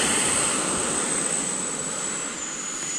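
A Horizon Hobby F-16 RC jet with its afterburner lit roars loudly and steadily, a broad hissing jet rush with a high whine that drops slightly in pitch as it passes, heard alone without talking.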